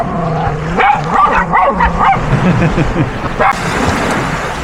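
A small dog on a beach barks in repeated sharp bursts, close and loud, giving warning barks at larger dogs, with breezy outdoor noise around it and a brief rustle near the end.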